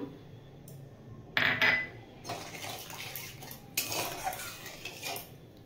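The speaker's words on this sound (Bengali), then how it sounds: "টক দইয়ের বাটিটা ধুয়ে জলটা দিয়ে দিলাম" A curd bowl being rinsed and its water poured into a cooking pan in a home kitchen, quiet clinks of bowl against pan and a faint splashing pour, close and soft with no speech.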